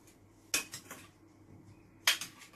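Utensil clinking against a dish while cauliflower and chickpeas are mixed with paprika, two sharp metallic scrapes each followed by a few softer taps, close and fairly quiet.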